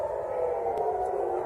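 Air raid sirens wail steadily during an attack on the Gaza Strip, a sustained distant tone holding level across the moment with faint background noise and no talking.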